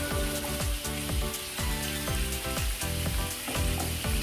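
Chicken soy bulgogi slowly frying in a pan over medium heat, a dense steady sizzle and spatter heard close up with no voices.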